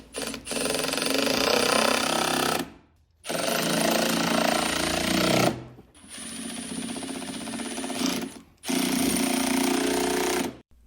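A loud, steady whirring drill runs in three long bursts of a few seconds each with brief stops between, driving drywall screws with washers into a drill press table, close up and with no talking.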